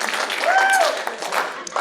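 Audience applause breaks out at a stand-up comedy show at Crackers in Indianapolis: a short, steady burst of crowd clapping that swells and tapers over about two seconds, with a faint tonal squeak riding on it.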